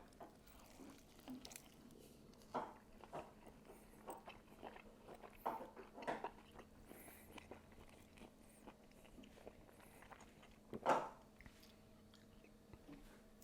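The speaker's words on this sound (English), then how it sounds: "Let me take a quick bite." Quiet bites and chewing on a flank steak taco with fresh lime, soft wet crunches scattered through the stretch and one louder bite near the end, close and otherwise fairly hushed.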